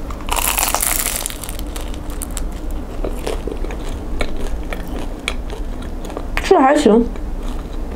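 Someone bites into a crispy donkey meat huoshao flatbread and chews it up close, making crunchy crackling bites, while someone speaks over it.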